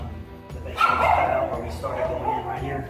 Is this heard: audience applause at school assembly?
no